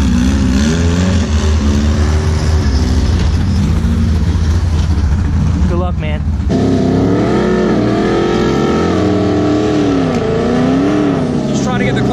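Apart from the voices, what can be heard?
1400hp Nissan GTR accelerating on a 60 roll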